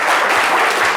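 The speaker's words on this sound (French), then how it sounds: "on applaudit très très fort" A studio audience claps hard during a live French talk show, a brief dense burst of many hands, loud and steady across the moment.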